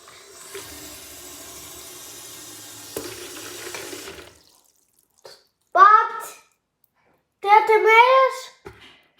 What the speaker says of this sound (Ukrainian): Чому ну, поки що наберемо воду?